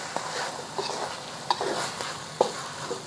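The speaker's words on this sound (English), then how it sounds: "Okay, give this a stir." Quiet, wet stirring and sloshing of noodles in spicy peanut butter sauce in a pan over a soft background sizzle, with a few light scraping clicks and no talking.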